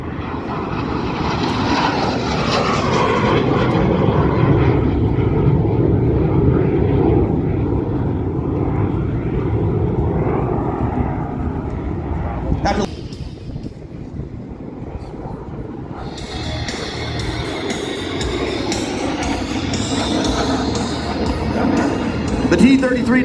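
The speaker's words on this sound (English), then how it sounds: "Take a look at the beautiful plan form on this T-33." A Lockheed T-33 jet trainer flies past at an outdoor airshow with a loud, sustained engine roar that swells and fades across the pass, while an announcer talks over it.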